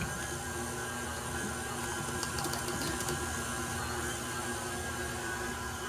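A stand mixer churns thick sugar cookie dough with a steady, continuous mechanical whir and hum that keeps an even level throughout, with no voices.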